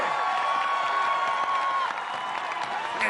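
A loud arena crowd at an American Ninja Warrior course, cheering and applauding continuously, with whoops rising above the dense roar.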